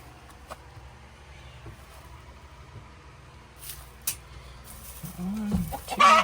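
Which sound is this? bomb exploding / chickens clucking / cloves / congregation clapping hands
chickens clucking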